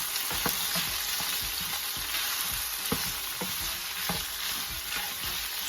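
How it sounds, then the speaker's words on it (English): Three tablespoons of butter sizzle softly in a hot pan while a utensil stirs, with scattered light scrapes and taps over the steady frying hiss. "I'm going to add in this point the 3 tablespoons of butter, and I'm gonna mix it really well"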